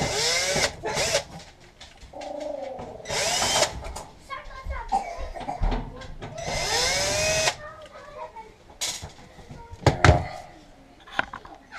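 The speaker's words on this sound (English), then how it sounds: "here is where our square bit comes in handy to remove these 8 screws" Cordless driver with a square bit backing out screws on a Whirlpool appliance during an infinite switch change, heard as several short bursts of whirring spaced across the clip, close by, with a voice talking in between.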